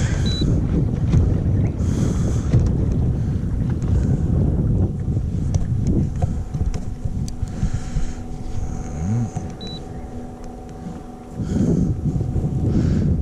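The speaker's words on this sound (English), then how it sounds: "a couple of waves" Waves slap against a small fishing boat on shallow water, rough splashing and hull knocks over constant wind rumble, with louder surges near the start and end.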